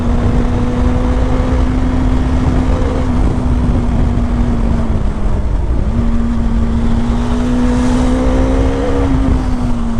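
A Bajaj Dominar 400 motorcycle at full throttle on a fast onboard run, its engine holding a loud, steady high drone across the whole stretch with one brief dip midway, wind roar close behind.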